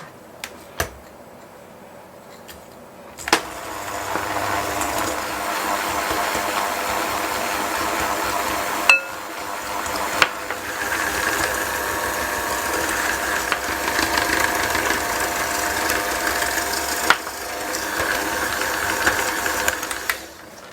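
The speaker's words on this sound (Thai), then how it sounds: "เดี๋ยวเราจะตีให้กระจายตัวนะคะเป็นครีมเลยนะคะ" An electric mixer beats cream cheese for a Basque burnt cheesecake, a continuous close motor whir that starts after a few seconds and runs steadily, with occasional sharp knocks of the beaters against the bowl.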